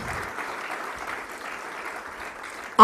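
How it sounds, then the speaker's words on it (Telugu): A church congregation claps loudly during a worship service, a steady, dense wash of applause sustained for a few seconds with no voices over it. "గట్టిగా చప్పట్లు కొడదాం దేవుని స్తోత్రం"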